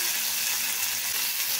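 Drumsticks sauté in hot oil for a spicy shevga masala curry, giving a steady, close hiss of bright sizzling across the whole short stretch.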